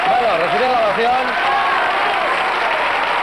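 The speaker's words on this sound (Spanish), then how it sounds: "recibir la ovación" A television game show studio audience in Spain gives a loud, continuous ovation, a dense wall of clapping and cheering with a host's voice rising over it.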